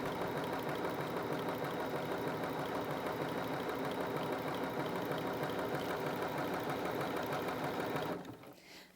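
A Bernina 325 sewing machine stitches bar tacks in a steady, fast mechanical whir with a rhythmic needle chatter, running loud and close for about eight seconds before stopping.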